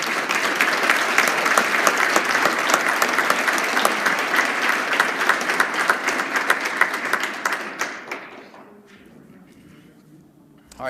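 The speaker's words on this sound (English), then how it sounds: "if I can have a round of applause for our briefers today." An audience at a Defense POW/MIA Accounting Agency family member update gives a round of applause, dense clapping for about eight seconds that thins out and fades to a few scattered claps.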